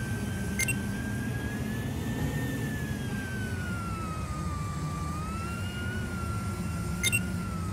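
Enemy aircraft flying overhead in the video game Just Cause 4, a steady drone with a slowly wavering engine whine that holds evenly over a constant rumble, with no talk.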